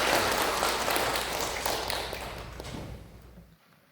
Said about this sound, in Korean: 우리 특별히 박수로 하나님께 다시 한번 영광을 올려드립니다